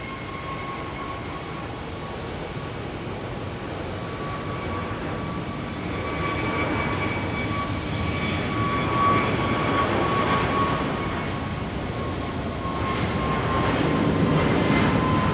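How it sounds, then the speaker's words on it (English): Airliners at Phoenix Sky Harbor airport during west-flow operations give a continuous distant jet roar that swells gradually, with steady engine whine heard from a distance. "And we got now West flow arriving on runway 25 left and departing on 25 right."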